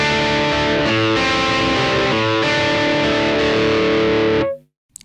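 A short electric guitar lick rings out through a heavily distorted Marshall amp simulation, a few sustained gritty notes and chord changes played loud and alone before cutting off abruptly.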